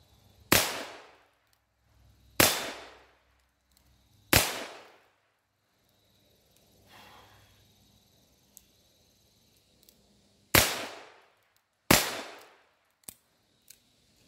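Sharp, loud cracks from a Smith & Wesson Model LR .22 pistol fired double action, six spaced shots with uneven gaps between them, each ringing off briefly, plus a few small mechanical clicks.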